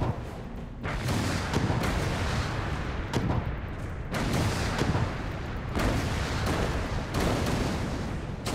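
Repeated gunfire in the video game Alice: Madness Returns, a steady barrage of loud, dense shots and booms with brief pauses, with no talking.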